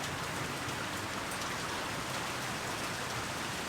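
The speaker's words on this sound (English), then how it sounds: "Definitely raining really hard here." Heavy rain pours down steadily, a dense, continuous hiss of drops drumming on surfaces close by, with no voices.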